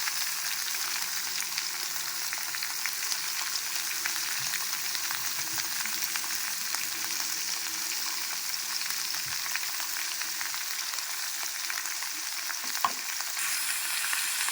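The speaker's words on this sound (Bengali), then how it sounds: "এরপর কিছুক্ষণ এটা ভালো করে আমরা একটু ভেজে নেব।" Mixed vegetables fry steadily in a pan for a Bengali home-cooked dish after the eggplant has been removed. A constant bright hiss and sizzle holds throughout, with a few soft stirring knocks and no talking.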